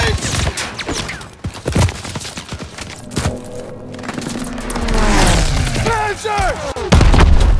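Distant flak and gunfire in a Call of Duty WWII battle, heavy booms and rattling bursts spread through the clip, with shouting voices and explosions building toward the end.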